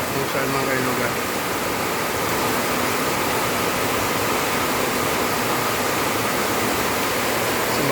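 The overflowing Pasig River rushes past in flood, a steady, loud broadband roar of churning water with no pauses, filling the whole stretch without letup.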